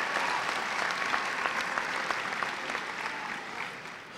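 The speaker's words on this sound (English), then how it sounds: "Give them a nice round of applause." Sustained applause from a large audience at the 2013 Creston High School graduation ceremony, a broad, even roar of clapping that continues steadily and eases slightly at the end.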